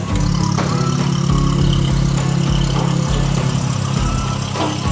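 Old barn-find car engine running steadily after being started, a loud, close, rough idle with a constant low rumble and no talk over it.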